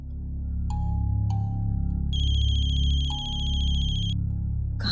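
A mobile phone ringtone sounds somewhere indoors in a home: short electronic tones, then a longer bright warbling ring that stops and resumes, loud and steady over a low background hum.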